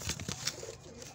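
A pigeon coos softly in a short, low, rounded burst of calls, close by with faint background noise and no talking.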